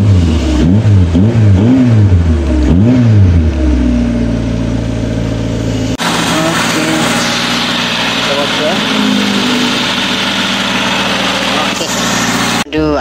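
Proton Wira with a 4G15 engine, revved loud and close: several quick rising and falling revs at the start, then a steady, sustained engine drone until an abrupt stop.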